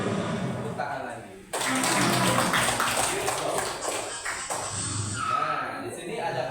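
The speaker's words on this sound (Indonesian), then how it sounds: "tepuk tangan lagi." Children in a classroom clap their hands again, a sudden loud burst of many hands that starts abruptly around a second and a half in and fades gradually, with talking before and after.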